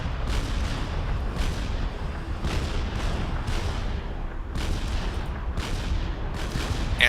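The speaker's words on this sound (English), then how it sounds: "Those are guns from a battleship. Yeah, if you were to build a full battleship, they shoot just that fast." Heavy battleship guns firing in the real-time strategy game Supreme Commander: Forged Alliance, a steady series of booming salvos roughly every second over a constant rumbling battle background.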